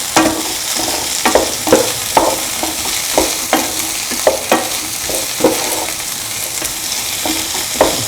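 Beans sautéed and stirred in a pan with other ingredients, with a constant sizzle broken by repeated sharp scrapes and taps of a spoon against the pan, close and fairly loud.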